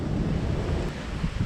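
A thunderstorm with heavy rain pours down outdoors in the Altai mountains, a dense, steady roar of rain and wind that fills the whole moment, with low rumbling beneath and no voices.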